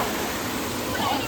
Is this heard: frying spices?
no